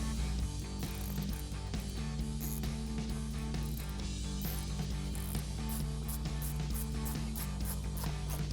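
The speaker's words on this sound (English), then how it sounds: "Now we can go ahead and tighten them all down using our 8mm socket." Ratchet with an 8mm socket tightening hose clamps on an aftermarket intake tube for a 2015-2023 Mustang, a steady run of close clicking under a constant hum, no talk.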